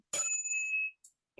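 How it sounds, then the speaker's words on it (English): A Buddhist guiding bell, held by its stem and struck with moderate strength, rings one bright sustained tone that fades within a second, followed by two faint clinks. "I'm using my index and thumb to sound the guiding bell. So this is a moderate strength."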